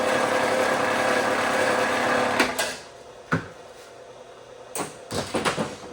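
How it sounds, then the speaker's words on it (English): A copper wire stripping machine runs with a steady mechanical hum, then stops, followed by a few sharp clicks and clunks as its blades cut and strip pieces of wire. "We'll run some pieces through here and you'll see the actual blades stripping or cutting the wire here."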